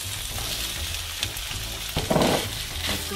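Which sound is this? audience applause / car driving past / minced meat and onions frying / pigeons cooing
minced meat and onions frying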